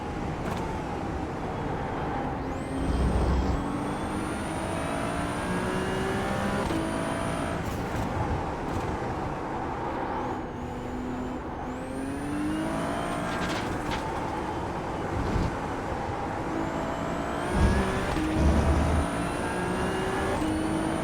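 Ferrari 296 racing on The Bend circuit in a driving game, a steady engine drone with repeated rising revs and sharp gear-change drops, heard from close inside the car.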